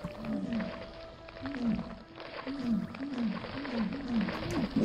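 A sea serpent in Gothic Archolos lets out a series of repeated, wavering groaning roars, about eight in a row, over a steady background ambience, moderately loud and fairly close.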